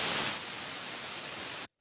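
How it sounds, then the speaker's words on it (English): A synthesizer noise oscillator emits a steady hiss of broadband noise, faint and even, lasting under two seconds before stopping abruptly. "And then we have a noise oscillator down here, which sounds like this."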